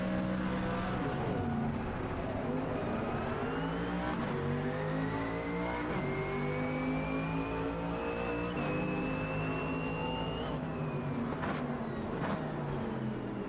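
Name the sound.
race cars driving in Automobilista 2 video game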